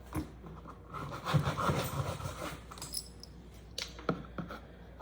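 A package holding baby-blue Bearpaw sheepskin slippers is torn open indoors, giving a few crinkly ripping and rustling bursts, loudest near the middle, over a low steady hum from a running washing machine.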